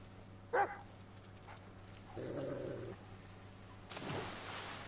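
A dog in Metal Gear Solid Delta: Snake Eater gives one sharp, close bark, followed by quieter whines and yips over a low in-game background hum, with a swell of noise near the end.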